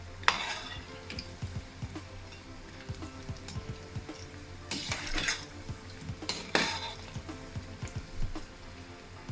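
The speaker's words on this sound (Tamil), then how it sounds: "கொஞ்ச நேரம் பொரிஞ்சா பிறகு தான் கிளறணும்" Maldive fish vadai frying in hot oil, a soft continuous sizzle under repeated metal scrapes and clinks of a spoon stirring against the pan, with a few louder clatters.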